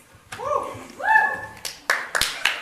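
An audience at a public hearing gives a few scattered claps after whooping voices, with sharp isolated hand claps standing out in a quiet room.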